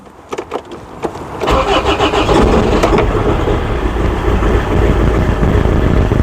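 A Land Rover Freelander TD4 diesel with an injector fault cranks in a few short bursts, then catches and settles into a loud, close, uneven idle with a rough, lumpy rhythm.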